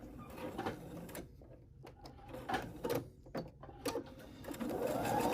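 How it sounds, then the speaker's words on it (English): A sewing machine stitches fabric pieces for baby blocks, a close whirring run of rapid needle strokes broken by short pauses and back-stitch bursts, steady and moderately loud. "here we are at the sewing machine, and we are going to start stitching about 1/4 inch in from the end"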